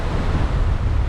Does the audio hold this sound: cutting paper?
no